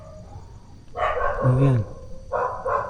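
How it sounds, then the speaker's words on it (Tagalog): Dogs bark at an abandoned school in Cavite, with a few short barks heard at moderate distance while a person speaks briefly. "May aso lang mga tropa kasi may mga gaalaga dito eh."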